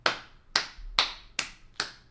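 A stand-up comedian claps slowly to mimic sparse consolation applause: five separate, sharp hand claps spaced about half a second apart, close and clear with no talking.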